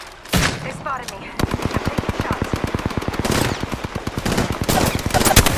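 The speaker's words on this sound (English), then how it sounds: "I'm taking shots." Rapid automatic gunfire in a video game squad fight, long bursts of machine-gun shots with scattered single cracks, loud and close throughout.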